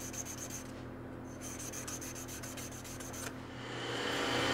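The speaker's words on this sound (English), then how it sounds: "Then I like to just give it a quick sand with the grain." Sandpaper rubs along the grain of a turned wooden cigar case by hand, quick rhythmic back-and-forth strokes, close and fairly soft, with a short pause between bursts.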